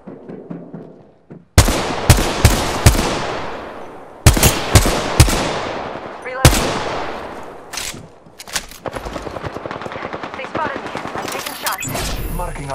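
Loud bursts of automatic gunfire in the battle royale shooter Apex Legends, sharp cracks and rapid volleys echoing up close, with a voice talking briefly between shots.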